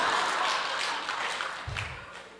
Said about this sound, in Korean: 그 왜 박수를 쳐?